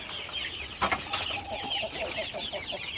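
Young chicks peeping and chirping as they feed on mixed corn, a dense, continuous chorus of high calls at close range over a background hiss.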